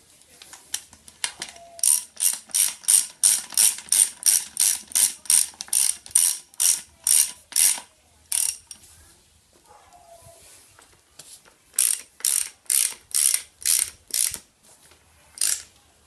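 A hand ratchet tightens the nuts on a Subaru Vortex front control arm, its fast clicking bursts repeating in long runs with a short pause midway, close and crisp.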